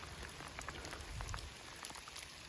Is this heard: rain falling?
yes